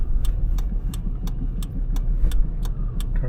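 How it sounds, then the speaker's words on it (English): A car engine runs steadily, a low constant rumble at moderate level with a regular series of faint ticking clicks over it and no voices. "Car sounds great."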